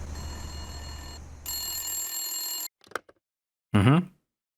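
Telephone bell rings loudly in a visual novel game, a steady electronic ring that stops abruptly, then a few faint clicks and a short burst of voice-like sound.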